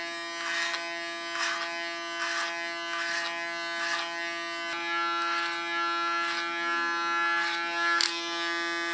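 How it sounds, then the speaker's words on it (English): An electric hair clipper cuts curly hair, used like a comb around the head and behind the ears: a steady close buzz with a constant motor whine and rhythmic bursts of snipping texture as the blades pass through the hair. "Use my clipper as a comb again."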